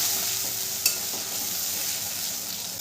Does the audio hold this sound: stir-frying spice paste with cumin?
yes